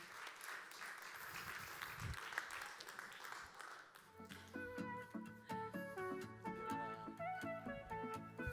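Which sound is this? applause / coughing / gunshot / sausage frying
applause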